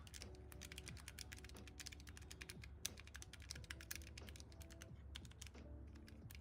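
Steady, rapid keystrokes on a computer keyboard during a typing test, a continuous clatter of close clicks with brief pauses, over a low background hum.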